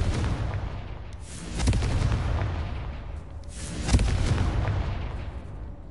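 Explosions from the Confringo spell in the video game Hogwarts Legacy on PS4: two heavy booming blasts about two seconds apart, each swelling and trailing into a rumbling decay, loud and close with no talk.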